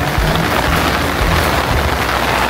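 Heavy rain pours down in a loud, dense, steady hiss at an outdoor hot spring resort, with no pauses.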